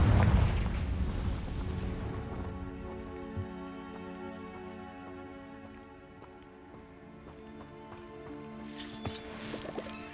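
A Confringo blasting spell bursts in Hogwarts Legacy with a loud, rumbling explosion at the start that fades into a sustained droning tail, followed by a sharp crackling burst near the end, with no talk.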